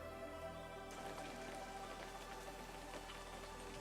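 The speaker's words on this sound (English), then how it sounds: "And now we have a stereo rain sound." Stereo rain sound effect, duplicated and panned left and right for a Godot game: a soft, steady hiss of falling rain with scattered faint drips, quiet throughout.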